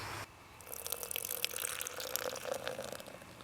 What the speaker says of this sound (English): I don't think I had enough vinegar, but look, it's bubbling up.